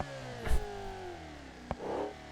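A flat-8 engine in a Bolide car within BeamNG revs in a couple of short, faint throttle blips over a low idle, with a sharp clack between them.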